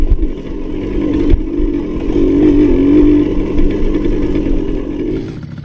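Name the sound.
Honda MBX80 80cc motorcycle engine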